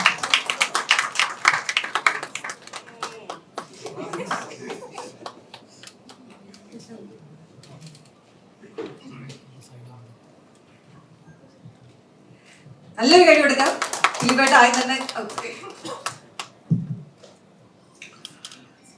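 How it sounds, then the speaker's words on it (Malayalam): An audience at a stage event in Aluva claps to welcome the actor Dileep, a loud burst of applause lasting a few seconds after a stretch of spoken introduction. "ഞങ്ങൾ ആലുവാക്കാരുടെ അഭിമാനവും സ്വകാര്യ അഹങ്കാരവും കൂടിയായ ജനപ്രിയ നായകൻ ദിലീപിനെ നല്ലൊരു കൈയടിയോടുകൂടി വേദിയിലേക്ക് സ്വാഗതം ചെയ്യാം"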